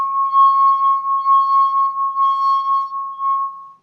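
A drinking glass sings under a wet finger rubbing its rim: one loud, pure sustained tone that wavers gently in volume with the circular motion, then fades out at the end.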